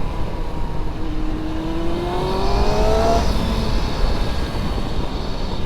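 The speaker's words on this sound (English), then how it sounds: "so far the bike is running awesome" A Yamaha R1 motorcycle, freshly restored with cleaned carbs, runs steadily on a ride, its broad engine drone continuous and fairly loud with a rising whine partway through, under heavy wind rush and no talk.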